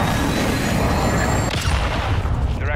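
Air strike explosion in a military shooter game: a sustained, loud rumbling blast with debris crash that fills the whole clip, continuous low booming with no pause.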